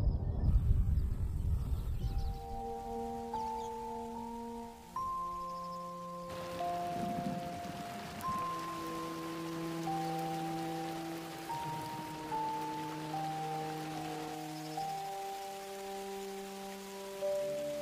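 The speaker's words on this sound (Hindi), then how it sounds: "आसमान से भी बारिश की बौछार शुरू होने वाली है" Rain shower on the Serengeti plains, a soft steady patter of drops under a layer of sustained melodic music, faint and continuous throughout.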